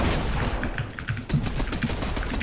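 Bursts of rapid gunfire in Fortnite, a dense run of sharp shots that stays loud and close throughout the brief stretch.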